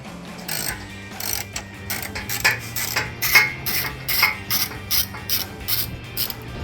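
Rapid ratcheting clicks from a ratchet with a 13mm socket backing out an exhaust bolt on a 2015-2022 Dodge Challenger 3.6L, coming in repeated short bursts, close and fairly loud, with no talking.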